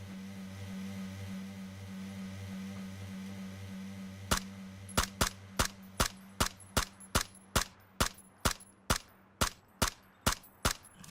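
A rapid series of sharp gunshots rings out in a steady rhythm in PUBG gameplay, about sixteen cracks over several seconds, following a low electronic hum.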